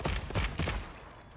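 Ammo firing in Monster Hunter Wilds: three heavy, booming shots in quick succession, loud and close, each followed by a short tail as it fades out.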